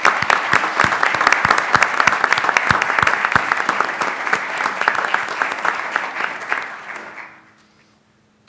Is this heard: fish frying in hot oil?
no